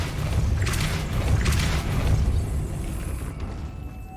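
The Depulso force spell in Hogwarts Legacy lands as a deep rumbling boom with a low thudding burst, followed by a couple of brighter whooshing swells and a fading mechanical tail, loud and close.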